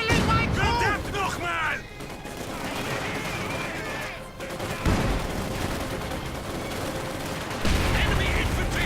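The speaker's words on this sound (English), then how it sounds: "Strafing run moving in" Strafing-run gunfire in the World War II strategy game Company of Heroes: dense, rapid machine-gun bursts and heavy booms pounding steadily throughout, with brief unit voice chatter mixed into the battle noise.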